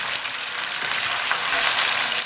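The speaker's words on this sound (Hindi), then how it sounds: "चिकन को हम कलर चेंज होने तक फ्राई करेंगे" Half a kilo of chicken sizzles loudly in hot oil with fried garlic and onion for a pulao, a dense, steady frying hiss that holds without pause and has no voices over it.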